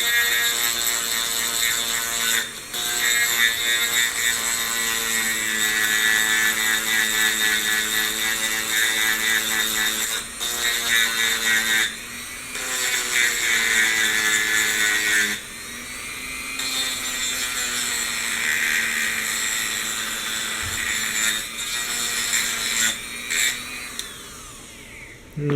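Dremel rotary tool cutting a bent piece of stainless steel hardware: a loud, steady high-pitched whine and grind running for over twenty seconds, broken by a few brief pauses where the tool eases off the metal, close and alone.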